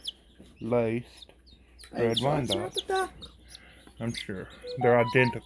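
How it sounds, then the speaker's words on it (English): A splash laced red Wyandotte chicken clucks close by in short, intermittent bursts, mixed with people talking. "This is another one of my Wyandottes."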